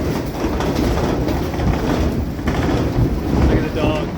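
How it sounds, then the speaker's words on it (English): Hurricane-force wind roars across a property with snow fences and horse shelters, a loud continuous broadband rush that keeps surging throughout. "Oh, it's so windy."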